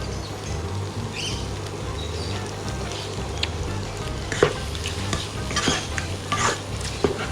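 Eggs sizzle steadily in a pan while a utensil scrapes and stirs, with occasional sharper metallic clinks toward the end.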